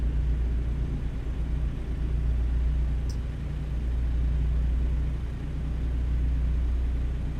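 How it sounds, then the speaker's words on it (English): Big diesel truck engine idling in American Truck Simulator, a steady low rumbling drone that holds evenly throughout with no talk. "With nothing but the sound of the truck's big diesel engine to lull you to sleep."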